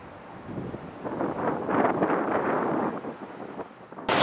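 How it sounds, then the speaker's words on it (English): Wind buffets a microphone on a boat heading back from Mackinac Island, a rough, blustery rumble that swells in gusts through the middle before easing, with no voices. "as you can see it is a bit windy again"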